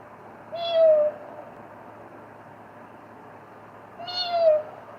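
A cat meows twice, each a drawn-out cry about half a second long, spaced roughly three seconds apart over a quiet background hum.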